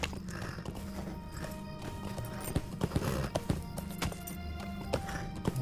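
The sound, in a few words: horse hooves clip-clopping while riding, LOTRO video game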